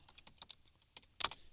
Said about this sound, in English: So I'm going to go ahead and type script.